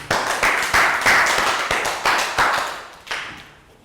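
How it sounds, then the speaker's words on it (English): A Year 3 class in a social studies lesson claps in a quick, patterned rhythm: about eight sharp, close bursts of hand claps that fade toward the end, with no talking. "Round of applause for Chew."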